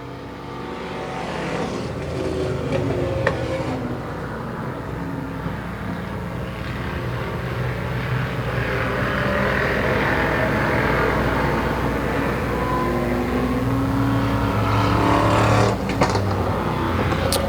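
Vintage race cars roar around an oval track out of turn four, a dense, sustained engine drone with several cars overlapping and swelling as they pass, loud and continuous throughout.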